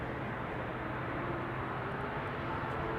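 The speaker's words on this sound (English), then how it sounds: "This is KLM flight 751 to Quito, and that is in... It's a 777-200 PHBQN is the registration." A KLM Boeing 777-200, nineteen years old, departs Amsterdam Schiphol with a continuous broad jet roar, steady and loud throughout, with no voices.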